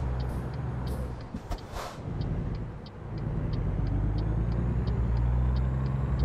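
Low rumbling truck engine after a downshift in American Truck Simulator, a 500-horsepower rig leaving town, steady deep drone building gradually with a brief hiss near the start and a repeating faint ticking above.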